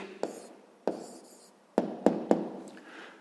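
Pen strokes writing down an answer by hand for a sixth-grade math exercise, heard as several sharp taps and short scratching bursts spaced unevenly, close and fairly quiet, with no speech.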